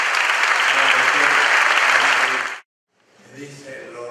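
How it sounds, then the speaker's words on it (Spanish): A lecture audience breaks into loud, dense applause that holds steady for about two and a half seconds, then cuts off abruptly, followed by quieter scattered clapping. "Un aplauso"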